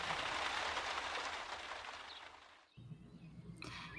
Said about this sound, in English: He created the rhythm of the light rain falling against the front windows.